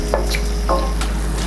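Kasi halwa, a sweet made from ash gourd, being stirred in a pan after roasted cashews are added, giving a few soft scraping strokes over a light background sizzle, close and alone.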